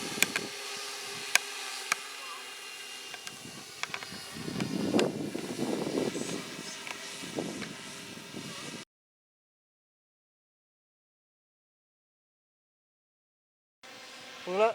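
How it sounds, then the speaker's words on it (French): Drone hovering in GPS-stabilised mode at about nine metres altitude, a steady buzzing propeller whine heard from a distance with some wind noise and a voice talking over it before the sound cuts out. "nous avons ici le drone qui est stabilisé en mode GPS"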